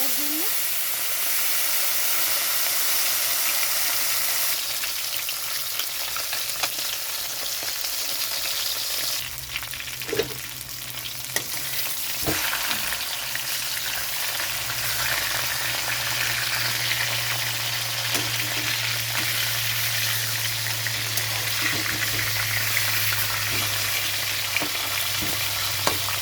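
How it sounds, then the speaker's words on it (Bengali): Fish rubbed with salt and turmeric fries in hot oil in a wok, a steady loud sizzle and hiss that runs the whole time with occasional clinks and stirring, and no voices over it. "কড়াইতে তেলটা গরম হয়ে গেছে, তো মাছটা এখানে ছেড়ে দিচ্ছি ভাজার জন্য"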